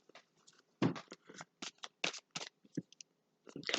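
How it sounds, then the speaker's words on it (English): Playing cards are shuffled quickly several times, giving a series of short, crisp riffling bursts separated by brief pauses, close and fairly quiet, with no talking. "A couple more quick shuffles."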